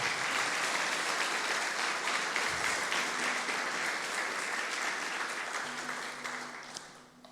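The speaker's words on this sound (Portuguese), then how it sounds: "Vamos aplaudir o Senhor e glorificar o seu nome" Steady applause from a church congregation during a prayer service, a dense, sustained clapping that fills the room before tapering off toward the end, with faint tonal hum beneath.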